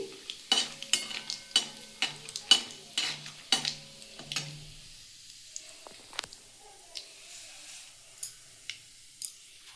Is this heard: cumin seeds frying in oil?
yes